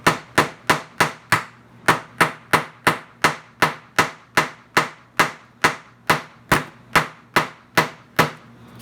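Small 1-inch nails being hammered into plywood with sharp, evenly spaced hammer blows, about twenty strikes in steady rhythm, close and loud with no talking.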